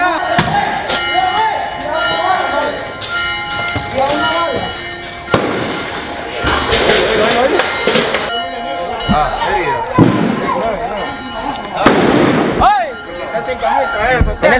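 Sharp cracks and bangs during violent street clashes in Sébaco, Nicaragua, sound out in scattered bursts over the whole stretch, mixed with shouting and voices close by.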